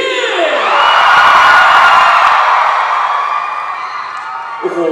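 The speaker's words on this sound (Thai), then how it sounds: "ขอเสียงกรี๊ดอีกที" A large crowd at a Sejeong fan concert in Bangkok screams and cheers loudly for several seconds, a sustained high-pitched roar that slowly fades.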